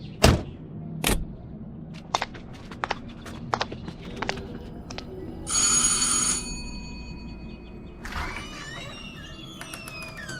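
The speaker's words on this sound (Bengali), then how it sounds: "কলিং বেল টিপতে" A calling bell at a house's front door under a portico rings in one short electric burst, with scattered footsteps and light knocks before it and faint household sounds after.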